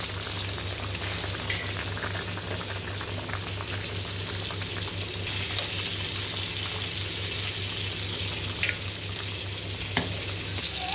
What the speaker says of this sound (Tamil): நல்லா மீன் அப்படியே வெந்துக்கிட்டு இருக்கு